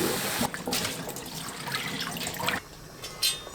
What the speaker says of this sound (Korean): 흐르는 물에 헹궈주세요.